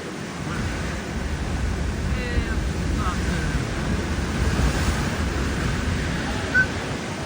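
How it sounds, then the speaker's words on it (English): Rough ocean surf crashing at a Hawaiian beach below a steep cliff, heard as a steady, broad roar of breaking waves mixed with wind buffeting the microphone, continuous and fairly loud throughout. "As you can see, the surf's pretty rough."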